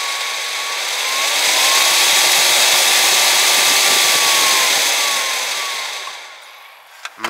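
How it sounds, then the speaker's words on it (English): A small 12-volt fan with variable speed control, used for greenhouse heating, runs at full speed. It makes a loud, steady rushing of air with a faint whine, then eases off near the end. "this thing is blowing some serious air"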